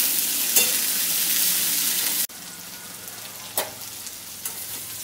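Boiled cauliflower stalks fry in hot oil for an aloo posto dish, a steady loud sizzle that suddenly drops quieter partway through, with a few soft clinks of stirring.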